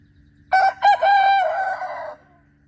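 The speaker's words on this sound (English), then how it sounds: "As soon as I turned off the camera, he crowed." A young rooster crows once up close, loud and alone, the call breaking into a few stuttering bursts before one long drawn-out note.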